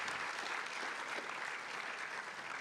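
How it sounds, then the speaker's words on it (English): A medical school audience at a white coat ceremony for the incoming class at Meharry Medical College applauds, a dense, steady wash of many hands clapping throughout, close and loud, with no speech over it. "So please give yourselves a round of applause."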